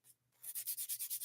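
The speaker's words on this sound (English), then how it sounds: "let's start working on sanding this surface." Sanding a surface before texturing, heard as a short pause then a steady run of rhythmic back-and-forth scraping strokes, close and fairly quiet with no talk.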